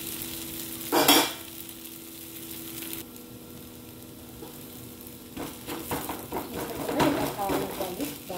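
Moong dal adai dosa cooking on an oiled pan, a continuous frying sizzle with a loud spattering burst early on and busier crackling in the second half, close and moderately loud.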